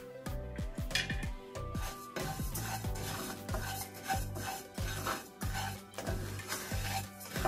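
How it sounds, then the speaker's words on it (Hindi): A spoon keeps stirring fennel seeds as they roast over a slow flame, making a rasping, scraping rustle in the pan. The stirring plays under prominent background music. "स्लो फ्लेम ही रखनी है और चमचे को मुसलसल चलाना है।"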